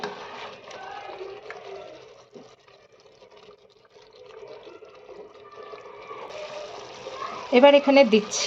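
Water poured into a pot of chicken and potato curry where spiced meat has just been mixed, a short splashing pour rising near the end after a voice speaks.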